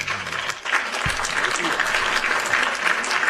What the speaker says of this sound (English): One more round of applause for the dog, man.